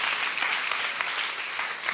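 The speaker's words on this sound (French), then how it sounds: "Et si vous applaudissez pour de vrai," A church congregation breaks into steady, dense applause, many hands clapping together at an even level for the whole stretch with no voices over it.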